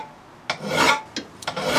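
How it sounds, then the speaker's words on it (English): A standard double cut file rasps across the back edge of a lawn mower blade to remove burrs, giving three or four close, gritty strokes with brief pauses between them. "This is a standard double cut file. We're going to start with removing the burrs off the back side of the blade."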